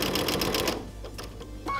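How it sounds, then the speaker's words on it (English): A sewing machine stitching backwards on a zipper cushion project, a rapid steady needle rattle that runs briefly and then stops, leaving faint clicks and handling noise. "Firstly, I'm going to stitch backwards."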